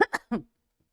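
Three quick coughs in a row, close and fairly loud, followed by silence.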